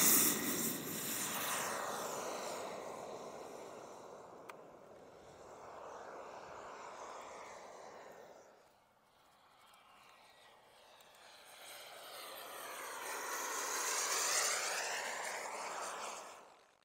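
A model airplane engine on takeoff, a steady high propeller whine that fades as the plane pulls away, dips briefly, then swells back louder as it passes close overhead.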